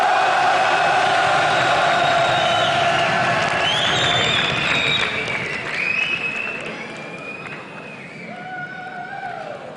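An esports arena crowd applauding and cheering for team FNATIC at an EU LCS match, a loud sustained roar of clapping and shouts that slowly fades, with an announcer talking over it.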